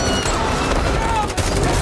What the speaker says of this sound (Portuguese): E a Pamela deu um tiro na Judith